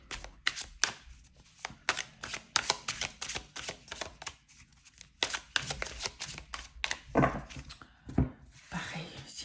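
Tarot cards are shuffled and drawn by hand, a close run of crisp riffling snaps and soft slaps repeating in quick irregular bursts for several seconds.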